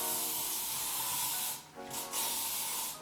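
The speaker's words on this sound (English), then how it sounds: "so I'm gonna be using some hairspray there" Hairspray hisses from an aerosol can onto hair in a continuous close, loud spray that dips briefly midway, then resumes steadily.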